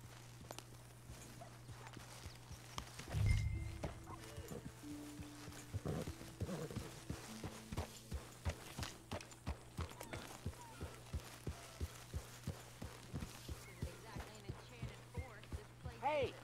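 Rhythmic horse hoofbeats in Red Dead Redemption 2 clip-clop at a steady walking pace over a low hum, with a louder thump early on and faint background voices.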